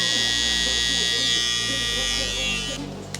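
An electric hair clipper buzzes steadily and loudly up close during a taper haircut on curly hair, then cuts off near the end.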